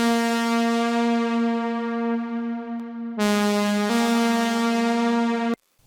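Sustained synth chord from a Serum preset with an LFO on the fine tune, giving a gently wavering, wavy pitch; bright and steady, shifting chords midway and cutting off at the end.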